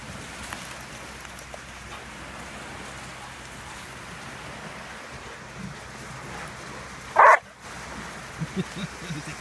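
A dog at a dog park gives a single sharp bark partway through, loud against a steady outdoor hiss, with a few faint taps and rustles around it.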